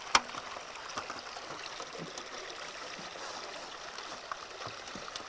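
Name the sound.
water flowing through natural rapids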